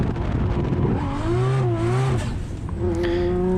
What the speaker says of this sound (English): that was indeed my clutch slipping